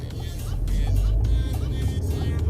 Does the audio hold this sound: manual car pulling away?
yes